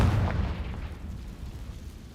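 A Confringo blasting spell cast in a wizarding video game sounds as a deep, rumbling explosive boom that hits at once and then rolls and fades over about two seconds, with no talk over it.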